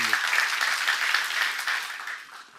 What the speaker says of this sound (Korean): 여러분아 건드리는 거 하나님 건드리는 것이면 박수하세요